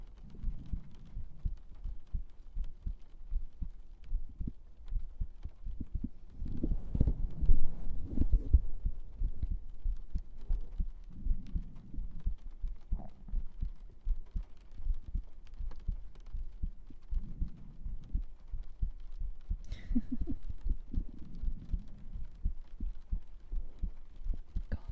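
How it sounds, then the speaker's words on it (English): Steady, soft thumping heartbeats carried through a binaural 3Dio microphone setup, a low rhythmic throb that continues evenly throughout with a faint hum underneath and no talking. "Godly heartbeats."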